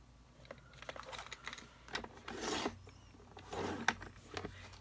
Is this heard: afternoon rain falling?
no